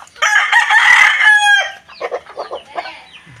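Domestic chickens on a small farm, with a rooster crowing loudly and close for over a second, followed by a run of short, rhythmic clucks that fade toward the end. No voices.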